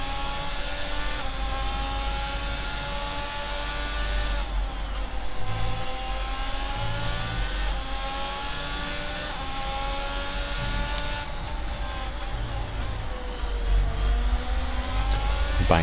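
Race cars in F1 22 at the Emilia Romagna Grand Prix, a continuous loud high-pitched engine whine with stacked harmonics, rising and falling through gear changes, with several cars close together.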